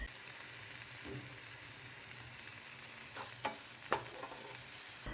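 Finely chopped onions fry with green chilies and spices in a pan, giving a constant soft sizzle with a few scraping stirs of a spoon, no voices over it.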